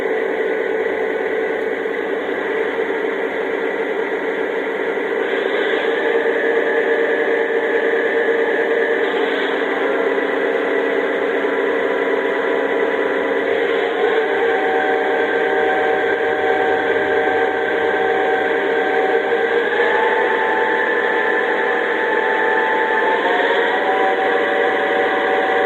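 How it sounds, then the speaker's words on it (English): A Lionel Legacy Southern Pacific F7 model locomotive plays its diesel RPM sound effects, a steady electronic engine drone whose pitch steps up in stages, heard continuously and close with no talking. "Now I'll show you the RPM sounds on the locomotive."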